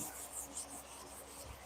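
A palm sander works over a wooden side table, giving a soft, steady rubbing whir with faint rhythmic scratchy pulses, quiet and close, with no talking.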